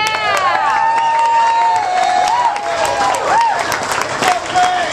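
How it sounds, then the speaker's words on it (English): Applause and cheering from a live concert audience, a dense, loud crowd wash with whoops and high shouts rising above steady clapping throughout. "Now give yourselves a nice round of applause"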